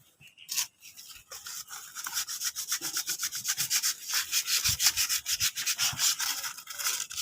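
Sandpaper is rubbed back and forth inside an engine timing gear, a close, rapid rasping scrape in quick repeated strokes after a couple of brief initial passes.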